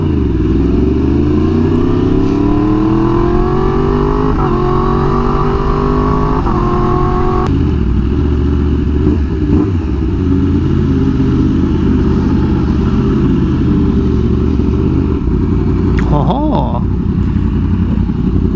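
A Honda Fireblade Triple R motorcycle running on a dyno, its engine roaring loudly and sweeping up through the revs in repeated climbs, then holding a steady, high, buzzing drone.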